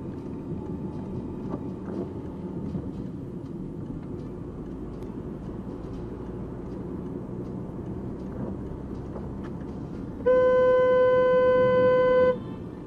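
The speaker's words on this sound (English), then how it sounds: "He honked his own back." A car horn blares steadily for about two seconds near the end, over a constant rumble of traffic and engine noise.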